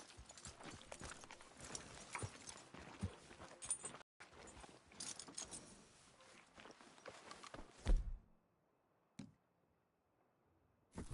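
Horse hooves clip-clop in the video game Red Dead Redemption 2, a quick irregular run of close hoof strikes that stops abruptly, followed by near silence and a couple of isolated knocks.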